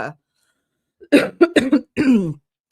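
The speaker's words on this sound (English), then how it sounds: "I'm coughing" Several close, harsh coughs come in a quick cluster after a short silence, with a brief throaty burst at the very start.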